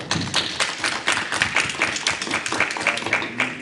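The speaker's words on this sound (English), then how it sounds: "Let's give all of them a round of applause." Audience applause at a school district board meeting, a steady patter of many hands clapping close by for several seconds with scattered louder claps.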